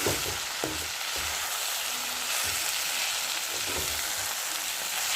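Mustard greens and potatoes fry in a pan with a steady, close sizzle, broken by a few soft scrapes of stirring.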